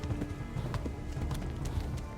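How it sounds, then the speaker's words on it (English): Horse hooves galloping in Kingdom Come Deliverance, a steady continuous clip-clop of a running horse in the open world, loud and close, with no talking over it. "This horse is fabulous."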